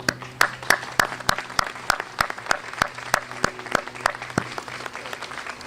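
Audience applauding police and fire personnel at a memorial ceremony in Moraine, with individual claps standing out sharply over a steady patter of hands, moderately near and continuing throughout.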